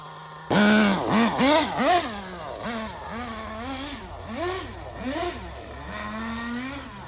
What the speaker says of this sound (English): It took a little while to get this thing fired up because it's freezing cold out